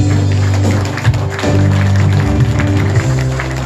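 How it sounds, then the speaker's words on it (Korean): Audience at a memorial ceremony applauds in welcome with sustained clapping, heard under a low hum and steady background music tones. "큰 박수로 환영해 주십니다"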